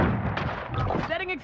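A flashbang grenade goes off in a military shooter video game, a booming burst that carries into a rumbling tail. A voice is heard calling out in the mix.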